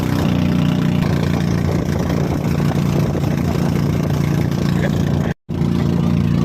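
Loud, steady motorboat engine drone close by, continuous throughout, briefly cutting out near the end before resuming.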